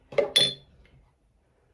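Kitchen dishes are gathered up in a few quick clinks and clatters close by, two sharp knocks followed by fading rattles, then near silence and one more brief clink at the end.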